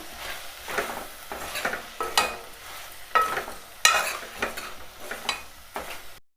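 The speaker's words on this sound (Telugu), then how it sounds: "అంతా కలుపుకోవాలి, కొంచెం ఉడకాలి మామిడికాయ ముక్కలు కూడా." A spoon stirs pappu charu, a Telugu lentil stew with mango pieces, in a pot on the stove, giving repeated scraping and knocking strokes over a soft sizzle, with no voices.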